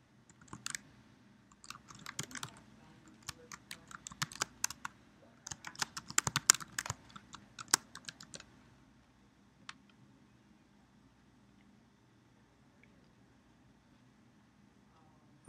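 Keys clatter on a computer keyboard while someone types login details, quick uneven bursts of close clicks for about eight seconds before the room goes quiet.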